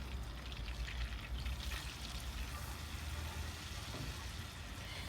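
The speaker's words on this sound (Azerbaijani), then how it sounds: "Kərə yağını tavaya əlavə edirik və əridirik. Yağ əriyəndən sonra onu əlavə edirik. Qızıl rəngi çalana qədər qovururuq." Butter sizzling quietly in a thick pan as something fries until golden, a continuous faint crackle over a low background rumble, with no talking.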